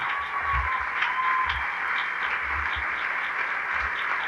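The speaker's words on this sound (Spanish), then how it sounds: "démosle un aplauso al Señor" A church congregation applauds the Lord in a steady, continuous wash of clapping that holds an even level throughout, with soft low thumps underneath.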